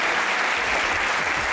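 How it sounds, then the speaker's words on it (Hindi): Sustained audience applause fills a TV comedy talk show studio, a dense, loud, even wash of clapping from a crowd with no break across the whole moment. "कभी हमारे लिए भी इतनी एक्सटेंडेड तालियां बजाया करो"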